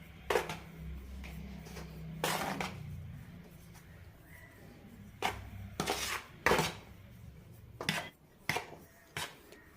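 Idli premix flour being stirred in a large bowl, with intermittent clinks and scrapes of a utensil against the vessel, close and irregular, with quiet gaps between strokes.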